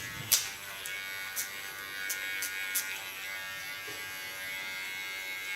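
Electric hair clipper cutting hair at the back of the head during a salon cut and color, a steady close buzz with a few light clicks and no talking.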